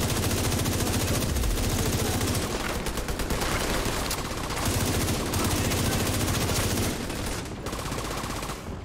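Rapid gunfire in the video game Division 2, sustained bursts of automatic fire close and loud with brief pauses for reloading, filling the whole stretch.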